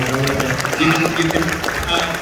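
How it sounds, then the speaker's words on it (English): Applause from an audience at an LDS singles conference comedy and mentalist show, a steady wash of clapping with some crowd noise and voices mixed in throughout. "Give these gentlemen a big round of applause"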